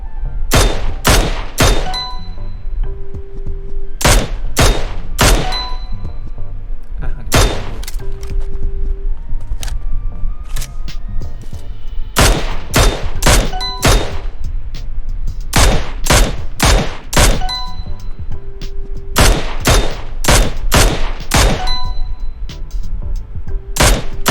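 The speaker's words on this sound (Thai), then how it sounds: "จะเริ่มจากการวอร์มยิงแค่หัวนะครับ โฟกัสเน้นแต่หัวนะ จะโฟกัสยิงหัวหลักนะครับแต่ถ้าโดนตัวก็ไม่เป็นไร" Bursts of M16 Mini rifle fire during headshot practice in the mobile game PUBG Mobile, loud repeated clusters of rapid shots separated by short pauses, with no talking.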